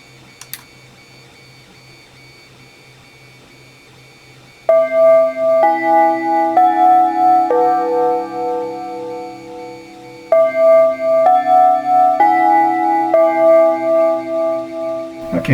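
A TOA Melodix chime source unit, freshly rewired and plugged into 120-volt mains, plays a clear electronic chime melody of sustained stepped tones, loud and close, after a few seconds of low hum.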